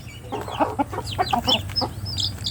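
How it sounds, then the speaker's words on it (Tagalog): Chickens being fed biscuits cluck and chatter in quick, overlapping bursts nearby, with a low background hum underneath and no talking. "Magpapakaon kita hit mga manok"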